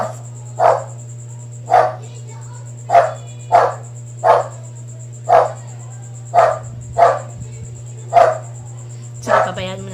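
A pet dog barks about ten times in a steady, evenly spaced series of sharp, fairly close woofs inside a house, over a constant low electrical hum and a faint high whine.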